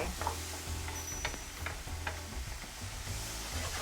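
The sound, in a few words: onion and garlic sizzling in a pan with corn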